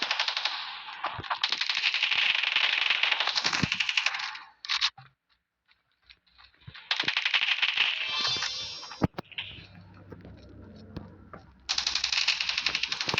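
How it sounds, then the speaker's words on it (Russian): A rapid-firing gun in a video game rattles in long continuous bursts, separated by short silent pauses and a few single clicks, close and fairly loud. "Нарешті в мене швидко стріляється пушка."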